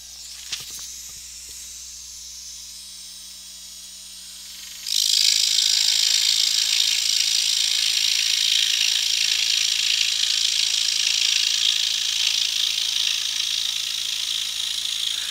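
A scroll saw fitted with a Pegasus blade cuts through 1 inch thick red oak. After a few seconds of quiet hum the cut starts: a loud, close, continuous hissing buzz that holds steady to the end, with no talk.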